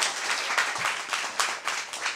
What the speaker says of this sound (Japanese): 温かい拍手をどうぞよろしくお願いします。